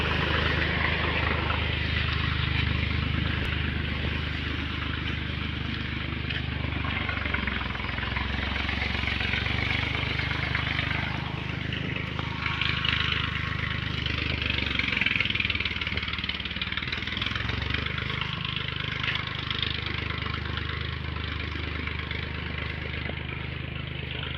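A tractor ploughing a village field close by, its engine a steady continuous drone with low rumble throughout, loud and unbroken, with no talk over it.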